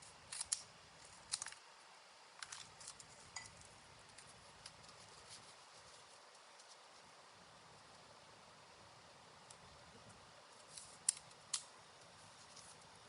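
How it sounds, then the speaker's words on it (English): Scissors cut 12x12 scrapbook paper for a page layout, making a few faint, close snips and crisp paper rustles spaced apart in a quiet room. "I'm going to cut them like this."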